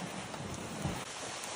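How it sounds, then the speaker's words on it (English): Heavy rain from a summer storm in Connecticut pours steadily onto outdoor surfaces, a dense, even hiss of droplets with a faint low rumble, moderately quiet and without talking. "it sure did rain."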